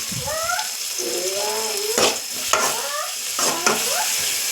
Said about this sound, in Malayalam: ലേശം ചിക്കൻ മസാല ഇട്ടിട്ട് നമുക്കൊന്ന് വഴട്ടാം